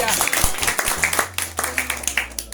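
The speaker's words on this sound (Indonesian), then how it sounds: "Tepuk tangan untuk Tuhan." A church congregation claps for God, a short burst of scattered, uneven hand claps under a preacher's voice.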